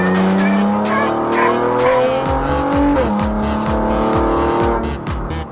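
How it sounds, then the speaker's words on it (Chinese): A car engine in a street racing video game revs hard with loud, rising throttle bursts and repeated gear-shift drops, accompanied by brief tyre squeals, close and dominant throughout. "听听这暴躁的油门声"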